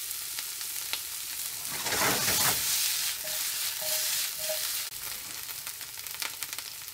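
Red onion, garlic and pre-cooked cauliflower sizzle and fry in a pan, with a steady close hiss, a louder surge of spitting midway and occasional stirring scrapes.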